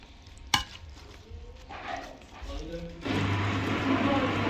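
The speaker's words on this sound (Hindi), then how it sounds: "तो अभी फिर इसको हम मैश कर लेंगे क्योंकि ये नरम भी हो चुका है।" Boiled chicken is mashed with a masher for haleem, heard as soft squelching presses and scraping strokes in a pot, with one sharp knock early and a denser, louder mashing texture toward the end.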